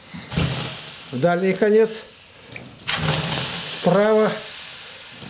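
Water splashed into a hot, freshly repaired Russian stove oven gives two sharp hissing, sizzling bursts of steam, close and loud, with people talking between and over them.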